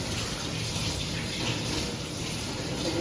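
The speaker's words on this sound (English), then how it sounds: "So wash your hands when you're cooking for other people and yourself." Tap water running steadily into a sink while hands are washed during cooking, a close, even rushing hiss with no talk over it.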